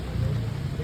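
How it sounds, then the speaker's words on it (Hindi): Rain begins to fall outdoors, a steady dense hiss with a low rumbling undertone, continuous and fairly loud throughout the short stretch with no voices. "बारिश आ गई यार"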